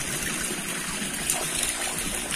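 Water pours steadily into a tilapia fish pond on a farm, a continuous close splashing and trickling with no break.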